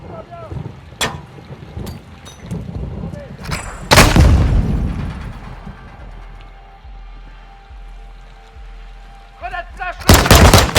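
A flash grenade goes off in the video game Modern Warfare 2, a loud sharp blast that rolls into a fading rumble amid scattered gunfire, with another burst of shots near the end.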